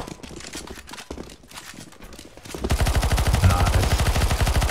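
Rapid automatic gunfire shooting at zombies in the CS:GO Zombie Escape game, a loud, steady stream of close shots that starts midway through, after a stretch of quieter scattered game noise.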